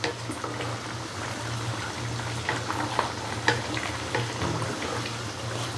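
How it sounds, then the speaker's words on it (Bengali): Qurbani meat boiling in a pot gives a steady bubbling sizzle with scattered soft clinks and scrapes of stirring, close and even throughout. "মাংসটাকে একটু নাড়া দিতে হবে। মাংসটা বলক চলে আসছে।"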